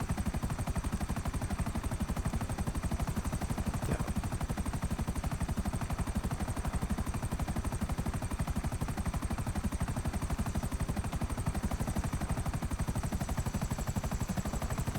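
Helicopter flying in GTA 5 Online, its rotor chop a rapid, steady, dense thrum holding close and loud for the whole stretch with no voices over it.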